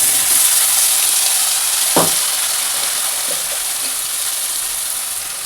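Onion and tomato paste frying in oil with chilli powder and turmeric in a kadai, a steady close sizzle and hiss with one sharp clatter near the middle, no voices.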